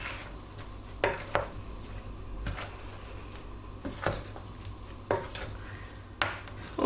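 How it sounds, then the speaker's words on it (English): A spatula lightly folds cherries into cake batter in a bowl, giving soft wet scrapes and occasional sharper clicks against the bowl at irregular intervals, quiet with low kitchen background hum. "Now we're going to lightly fold in the cherries before putting this into the tin"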